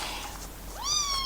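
A kitten gives a single clear meow near the end, close and moderately loud, after a second of soft background noise.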